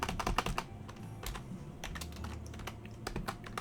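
Steady typing on a computer keyboard, close-up with rapid uneven clicks and a few heavier key strikes, no voices.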